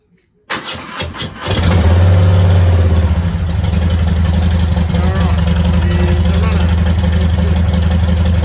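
Harley-Davidson Heritage Classic Softail motorcycle cranking over after a battery replacement, then catching into a loud, deep, steady idle that rumbles on close by.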